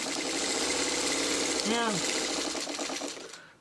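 A sewing machine stitching quilt block pieces together runs in a fast, steady mechanical whir close by, slowing and stopping near the end, while someone briefly speaks over it.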